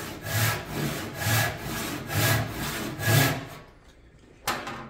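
A hand saw cuts through wood with the blade held square, giving steady rhythmic back-and-forth rasping strokes, about five in a row, then a short pause and one sharp knock near the end.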